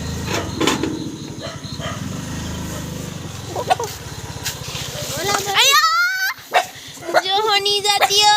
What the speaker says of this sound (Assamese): সেই কুকুৰ পোৱালিকেইটা